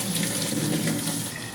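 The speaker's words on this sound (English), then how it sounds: "I'm struggling to fill up the water jugs and film at the same time." Tap water runs steadily into water jugs, filling them to top up a 16-gallon tank in a van; a close, loud, continuous rushing splash with no voices.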